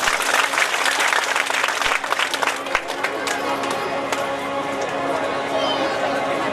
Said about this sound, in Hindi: तो मैं चाहता हूं एक बार और ताली बजा दें।